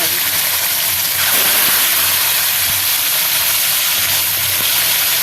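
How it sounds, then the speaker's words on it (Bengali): Pabda fish sizzling in hot oil in a wok, a loud, continuous hiss and crackle of frying that stays even throughout. "কড়াতে তেল দিয়ে দিয়েছি তেলও গরম হয়ে গেছে এবার এক এক করে মাছগুলো ছেড়ে দিয়ে লাল লাল করে ভাজতে"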